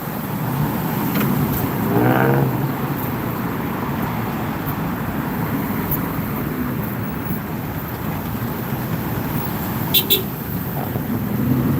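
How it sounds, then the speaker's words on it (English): Car horns honk along a busy Austin street during a protest, one longer blast standing out over steady traffic rumble and crowd noise, with a couple of shorter toots later on. "Lots of people honking now."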